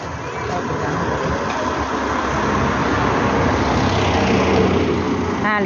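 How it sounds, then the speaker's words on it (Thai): A train rolls past, a loud continuous rumbling roar that builds slightly and holds throughout, close to the listener. "รถไฟอ่ะน่ะ"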